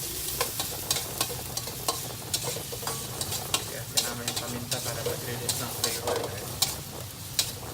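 Onions and black pepper fry in a pan with a steady sizzle while a utensil stirs, scraping and clicking in frequent irregular taps close by; a voice briefly speaks faintly in the background.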